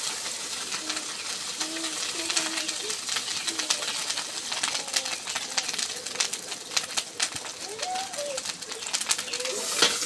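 Fish roe frying in oil in a wok, a continuous crackling sizzle throughout, with a voice talking over it at moments.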